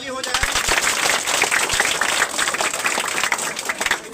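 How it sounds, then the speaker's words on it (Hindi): Loud clapping from a crowd of children fills the space, dense and sustained for a few seconds before tapering off, with voices mixed in. "बच्चे एक जोरदार ताली हो जाए।"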